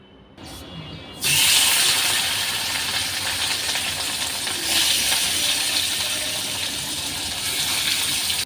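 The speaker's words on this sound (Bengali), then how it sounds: "মা এখানে দো পেঁয়াজাটা রান্না করার জন্য মাছগুলো ভালো করে ভেজে নিচ্ছে" Catla fish pieces frying in a pan of oil: a loud, continuous, crackling sizzle jumps in after a quieter first second and carries on steadily to the end, with no talk.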